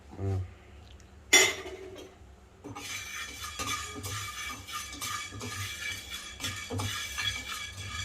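Black peppercorns dry-roasting in a pan for Tamil Nadu-style pulihora powder, with light scattered clicks and rattles of spices shifting against the metal, plus one sharper clatter near the start.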